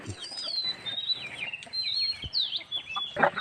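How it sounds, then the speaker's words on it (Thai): Chickens clucking and calling around a temple yard in Lampang, Thailand, a steady run of chirpy fowl calls close by, with a few sharper squawks and no talking. "ไก่ๆก็มาเยอะแยะครับ"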